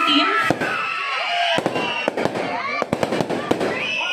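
Fireworks at an outdoor youth night church event burst in sharp, irregular pops and crackles, with a crowd cheering and people talking loudly throughout.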